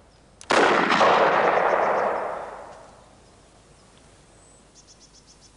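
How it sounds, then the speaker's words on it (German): Single gunshot in a 1980 German film, one loud sharp blast that rolls off into a long fading echo over a few seconds, with faint insect-like chirping in the quiet background afterward. "Der Stein hat doch absichtlich daneben geschossen."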